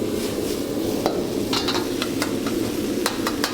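Plant-based chik'n and cooked rice stir-frying in a wok, a steady sizzle with repeated sharp spoon scrapes and clacks against the metal as the food is broken up, nearby and fairly loud.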